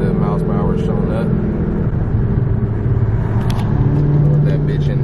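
A Ford Mustang GT with Texas Speed longtube headers accelerates hard from inside the cabin, its loud, steady engine roar and exhaust drone rising in pitch under a constant rumble.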